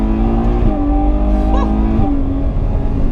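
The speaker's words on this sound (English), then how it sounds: "800 horsepower Ferrari V12" Ferrari 812 Superfast with its 800 horsepower V12 roaring steadily and loud on the Fiorano track, a sustained engine note with small pitch shifts and no talk over it.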